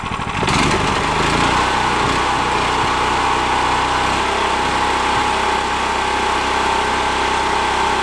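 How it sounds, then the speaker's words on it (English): A cheap 18HP Temu engine mounted on a go kart starts up and revs, then holds a loud, steady, buzzing drone at high RPM with a faint rattling vibration, close by and alone. "Let's see what the engine RPM goes up to."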